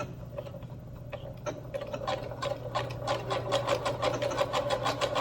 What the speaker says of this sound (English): So let's just go ahead and do a zigzag stitch.